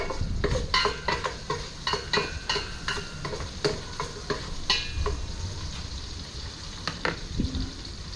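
Food sizzles steadily in coconut oil while a utensil scrapes and stirs the pan in repeated quick strokes, close and fairly loud, during an outdoor catch-and-cook fish sauté.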